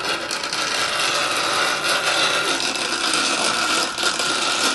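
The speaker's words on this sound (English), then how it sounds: "Wind the film onto the reel." 120 film is wound onto the reel of a Lab-Box developing tank, producing a continuous rough grinding, ratcheting rub. It is close and fairly loud, with no talking.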